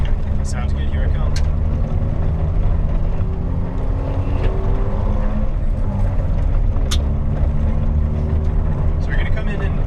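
A front-wheel-drive car rumbles along under steady engine drone with low road noise, while people talk over it throughout.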